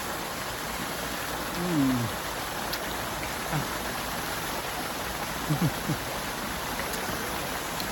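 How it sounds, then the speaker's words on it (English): A small waterfall at African Lion Safari makes a steady, even hiss of falling water that fills the whole stretch, with a few brief faint voices breaking through in the background. "Waterfall."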